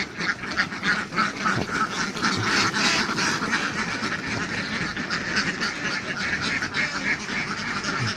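A dense flock of CP Khaki Campbell egg-laying ducks in a farm pen quacks continuously, loud and close, many overlapping calls forming a steady noisy chorus.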